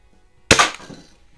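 A single sharp crack from a Red Ryder BB carbine hitting a shotgun shell target, loud and close, with a quick decaying ring after an otherwise quiet moment.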